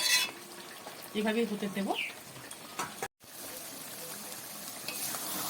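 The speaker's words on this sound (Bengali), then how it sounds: "আস্তে আস্তে করে আমি এইভাবে নাড়বো, জলটা আস্তে আস্তে টেনে নেবে" Fish being stirred in a pan as its released water cooks off, a soft sizzle and bubbling with scraping stir strokes, someone speaking briefly over it, then a quieter steady simmer.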